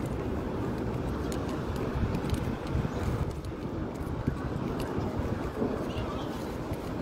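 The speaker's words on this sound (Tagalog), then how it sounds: "mahangin dito sa labas" Wind blows outdoors, buffeting the microphone with a continuous low rumble and gusty rustle while people talk over it.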